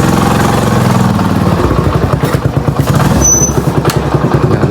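A motorcycle engine idles and revs close by as the bike is wheeled inside for the night, a steady low throbbing rumble with clattering pulses that shift in rhythm midway through.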